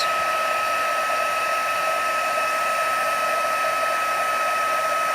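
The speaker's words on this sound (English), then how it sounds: "this heat tool is rather hot" Steady, continuous blowing of a hot air heat tool, a constant whooshing hum with a high whine, close and unchanging throughout.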